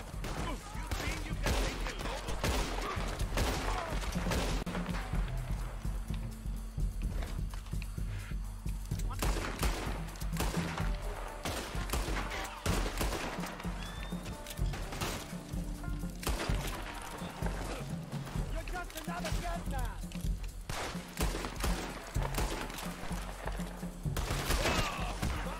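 Gunfire in Red Dead Online: repeated sharp shots and rattling volleys ring out close and loud throughout, with brief pauses between bursts and faint voices underneath at times.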